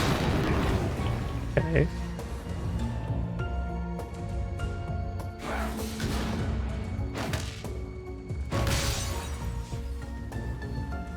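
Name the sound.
bombs exploding in the video game Crown Trick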